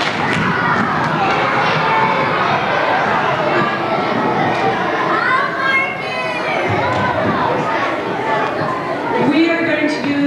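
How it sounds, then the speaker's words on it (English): Crowd at a school assembly cheering, a dense mix of children's shouts, chatter and applause-like thuds filling the whole stretch, with voices rising and overlapping throughout. "So let's give her a cheer."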